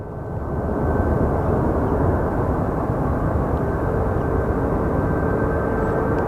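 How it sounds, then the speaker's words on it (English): A Cessna Conquest airplane at Sky Harbor Airport roars steadily and loudly, a broad engine rush that swells in over the first second and holds without talk. "That was a Cessna Conquest, apparently."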